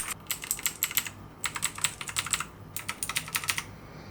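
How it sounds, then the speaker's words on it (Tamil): Rapid clicky keystrokes on a mechanical keyboard in three quick bursts with short pauses between, close and crisp, no talking. "here R the sound test of the mechanical keyboard"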